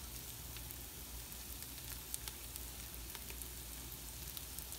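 Garlic sizzles in a hot pan, a soft, steady frying hiss with faint crackles, heard quietly and alone.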